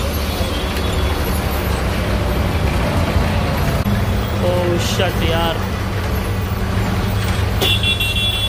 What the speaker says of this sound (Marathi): त्या साईडला बघा, एक ट्रक पलटी झाल्यामुळे किती ट्रॅफिक झालाय बघा।